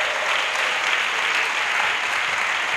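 Sustained applause from an audience at a pastoral academy session, a dense steady clapping that fills the whole stretch at full volume.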